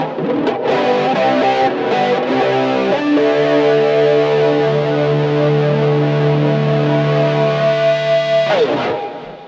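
Bass guitar played through a distortion effect unit in a small rig, a loud continuous fuzzy tone with sustained held notes and shifting pitches, then a sharp cut-off at the end, with no talk.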